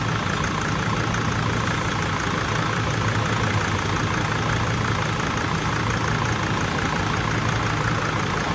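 A camper van engine idles steadily and loudly up close on a cold day, a constant low rumble with rattly exhaust texture and no change in pitch.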